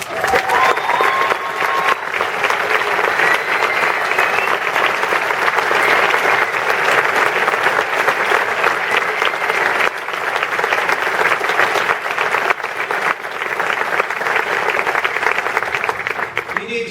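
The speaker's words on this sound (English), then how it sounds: "Let's give them a big round of applause." A crowd at a political event in Wisconsin applauds Republican Assembly and Senate legislators, loud and unbroken for about seventeen seconds, with voices mixed into the clapping.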